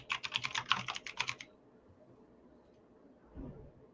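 A short, quick run of close keystrokes clatters on a computer keyboard, then stops, leaving a quiet room with a faint low bump afterward.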